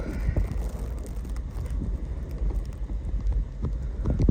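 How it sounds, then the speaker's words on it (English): Strong wind buffeting outdoors during a winter storm, a steady low roar with gusty bursts that stays loud and close throughout with no break. "The wind is really whipping out here."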